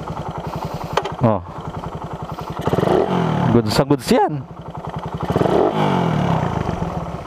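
A motorcycle engine runs with a steady low idle pulse, a brief revving burst near the middle, while someone talks over it; the bike has tabas-cut valve guides.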